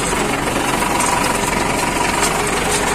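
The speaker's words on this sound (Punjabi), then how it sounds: "ਚੱਲ ਰਿਹਾ ਟਰੈਕਟਰ ਆਪਣਾ" A 5911 70 HP tractor engine runs loudly and continuously nearby while making straw, a steady chugging rumble with rattling vibration throughout.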